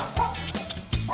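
Puppies give several short, high yips and small barks in quick bursts, close by, with a few whimpery tones between.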